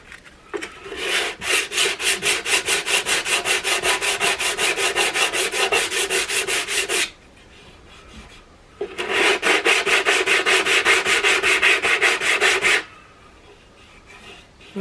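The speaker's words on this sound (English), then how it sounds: "I put some wood filler in them, so I think I'm just going to try to fill them and sand them off now" Hand sanding of wood filler on a wooden gramophone cabinet: two long runs of fast, even back-and-forth rasping strokes, close and loud, split by a short pause, with no talking.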